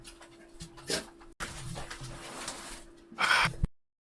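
A dog pants close by in quick, breathy bursts, with a brief whimpering gasp and a louder huff just before it cuts off.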